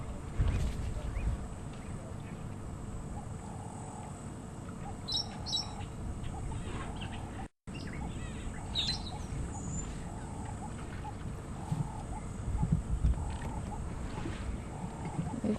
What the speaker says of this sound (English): If you're wondering what birds are chirping up above us, it's the brown-headed parrots mostly,